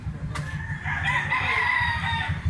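A Gilmore Hatch gamecock rooster crows once, loud and close, the drawn-out call rising over a low background rumble.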